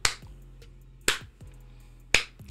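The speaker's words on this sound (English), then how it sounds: "clap your hands 2 or 3 times" Three sharp hand claps spaced about a second apart, made to mark a sync point at the start of a recording, each a crisp close transient over a quiet room.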